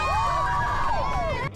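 A parade crowd cheers and shouts for a rider pulling wheelies on a red, white and blue SE-style BMX bike, a steady wash of excited voices and shrieks carrying on without a break through the brief moment.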